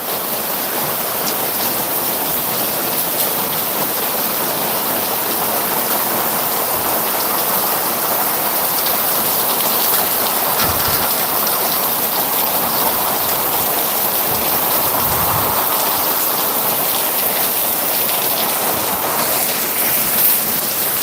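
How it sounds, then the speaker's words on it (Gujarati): A rain shower builds in Khadadhar, Khambha taluka, Amreli district, a steady, close hiss of falling water with occasional low knocks and no voices. "વરસાદ થોડોક વધી રહ્યો છે"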